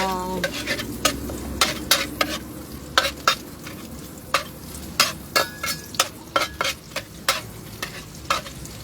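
Water spinach stir-fried in a pan, with a soft sizzle under a dozen or so sharp, evenly spaced clanks of a utensil scraping and tossing against the metal, close and fairly loud.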